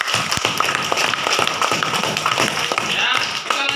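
A class gives a round of applause in a school classroom: fairly loud, scattered clapping from many hands, uneven and continuous throughout, with faint voices mixed in.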